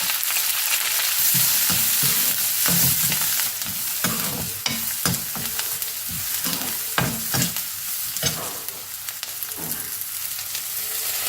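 Onion and green chilies frying with mustard seeds and chana dal in a pan, a steady oily sizzle that drops a little after a few seconds, broken by repeated scraping clicks of a spoon stirring.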